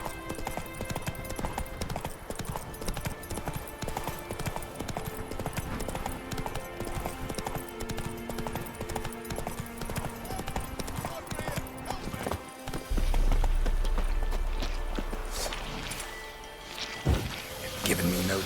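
Roach, the horse in The Witcher 3, trots along with steady clip-clopping hooves close by, accompanied by game music and a brief spoken line before the sound thickens near the end.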